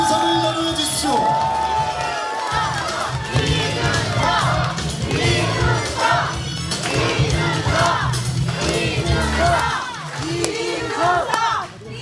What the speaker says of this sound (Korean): 큰 박수 부탁드리겠습니다. 이준석을 연호해 주십시오.